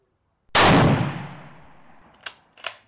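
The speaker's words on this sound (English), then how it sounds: "The recoil is intense, and I'm shooting sitting at a range under the best conditions" A single Kar 98 carbine shot at an outdoor shooting range, a loud sharp crack with a long rolling decay, followed by two quieter metallic clicks as the rifle is handled.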